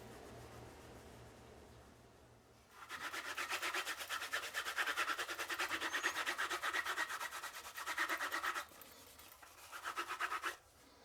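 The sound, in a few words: rubbing beeswax and mineral oil mixture into leather knife sheath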